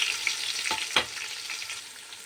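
Four large onions, sliced lengthwise, sizzle loudly in hot oil with whole spices for chicken biryani, a steady close frying hiss broken by a couple of stirring scrapes.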